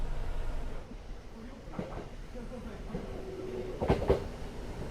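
A train on the Izu Kyuko Railway, a small local line in Japan, rolls along with a low steady rumble, a few sharp metallic clanks and a brief squeal partway through.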